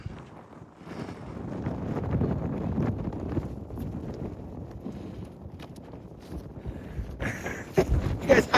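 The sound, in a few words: strong wind on a trail in Arches National Park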